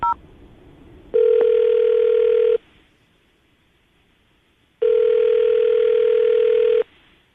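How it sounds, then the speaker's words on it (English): An outgoing telephone call rings on a radio morning show: two long, steady ringback tones separated by a few seconds of quiet line, clear and with no talking. "we're going to give her a call right now, see if we can get her on the phone"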